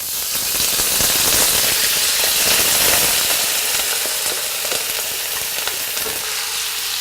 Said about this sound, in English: we're gonna let our tofu cook for about probably about 7 minutes until it's brown